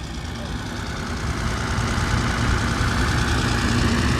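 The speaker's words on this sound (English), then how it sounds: "There's a tractor." Tractor engine idling at a steam and gas engine show, a steady low rumbling drone with a rhythmic chug, close by and continuous, growing slightly louder partway through.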